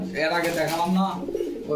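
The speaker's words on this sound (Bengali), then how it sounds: "এই পাশে কিছু কবুতর আছে" Soft pigeon coos blend with low murmuring voices nearby at a pigeon shop in Bogura, the cooing steady and close throughout.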